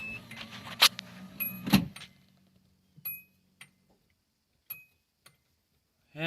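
A transmission speed sensor on a 1UZ-swapped 240SX is spun by hand, giving close, irregular mechanical clicks and ticks that start in a quick cluster and thin out into sparse, isolated taps.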